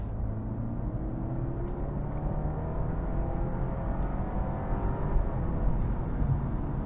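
Turbocharged four-cylinder engine of a 2024 BMW 5 Series accelerating, a moderate muffled in-cabin hum with slowly rising tones building steadily under road noise.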